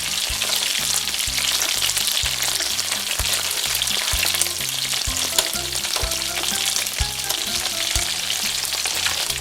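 Cornstarch-coated shrimp fry in a pan for garlic shrimp noodles, giving a loud continuous crackling sizzle with faint low clatter underneath, steady and close throughout without speech.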